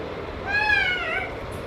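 A single drawn-out cat meow, rising then falling, close and clear against a quiet room.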